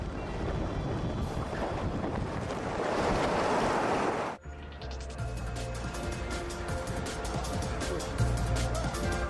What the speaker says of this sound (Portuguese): surge outra poderosa força da natureza: